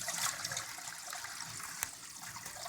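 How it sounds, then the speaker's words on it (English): Water drains from a portable washing machine through its hose after a wine-cork stopper is removed, producing a steady hissing, trickling rush with no talk. "And we're going to drain the water out."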